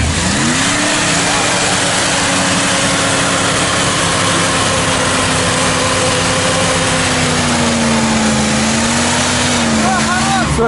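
Cars rev hard during an off-road race, a sustained, loud engine roar with a steady droning pitch that swells and dips while the wheels dig in, with people shouting and talking over it throughout.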